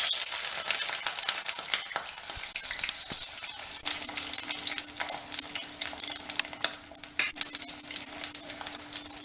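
Raw banana pieces fry in oil for a Chettinad varuval, a continuous close sizzle broken by scraping stirs and clinks of a utensil against the pan, with no talking.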